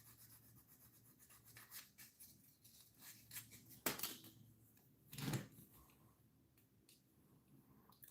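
Sandpaper rubbing against the plastic underside of a model lowrider car, soft close scratchy strokes in an uneven rhythm with a couple of louder rasps, quiet overall.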